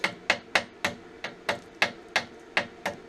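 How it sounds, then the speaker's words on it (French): A hammer chips welding slag off a fresh weld on a steel saw frame, about a dozen sharp metallic taps in a steady, even rhythm, close and alone. "Il faut casser cette saloperie de laitier là. Le gratter"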